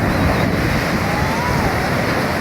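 Storm-driven surf from a hurricane breaking on Sayulita beach, a loud continuous wash of crashing waves with heavy wind rumble against the microphone and no talk.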